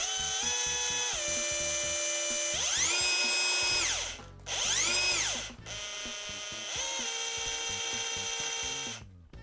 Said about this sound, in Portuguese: isso aqui para fazer um furo de diâmetro grande em aço ajuda bastante